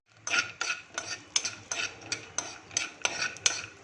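Dry fruits roast in a spoonful of ghee while a spoon scrapes and stirs them in a pan, producing about a dozen quick, rhythmic clinks and scrapes, close and distinct with no voices.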